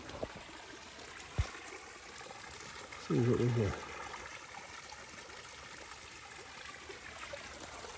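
Water flows and trickles softly in Hunt Brook in a wooded preserve, a continuous faint stream under brief talk, with a knock early on.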